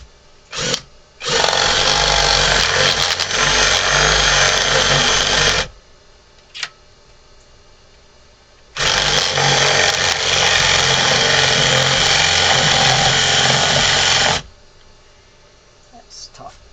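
A 1.25-inch drill bit boring into hard wood for a carved ventriloquist figure: two long, loud stretches of steady motor whine and grinding, separated by a quiet pause with a brief blip, the drill stopping and restarting.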